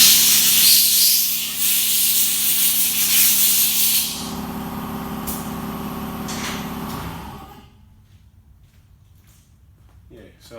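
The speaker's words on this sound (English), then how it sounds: "I'm going to use the compressed air and clean these caps." A compressed-air nozzle blows dirt off fuel line caps during injector work on a 150-series Prado, a loud steady hiss for several seconds that drops to a softer jet and then cuts off into near silence.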